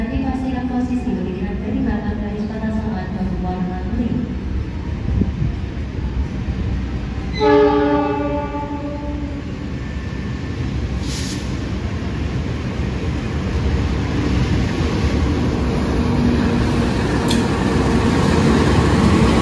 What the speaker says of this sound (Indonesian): Bogowonto resmi kesusul kereta api Manahan di stasiun Kroya.